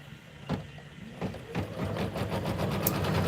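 Brother Stellaire embroidery machine running at a steady whirring pace, its needle mechanism tapping in a continuous rhythm that builds slightly louder toward the end, close by with no talking.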